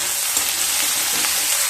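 Sliced onion and green chillies sizzle steadily in hot oil in a pan, a dense, even crackle close by with faint stirring, no talking.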